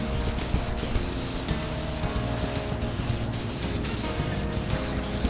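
Spray paint hissing steadily from a can as another coat goes onto Honda Del Sol parts, a loud, continuous close-up spray with small pulses as the nozzle is pressed and released.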